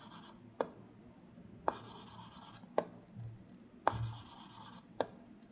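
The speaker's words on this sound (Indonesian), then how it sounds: "Coba denger perbedaan suara di Paperlike dan di tempered glass ini." An Apple Pencil writes on an iPad Mini 6 across Paperlike and tempered glass screen protectors, giving soft, close scratchy strokes broken by sharp taps as the tip lands.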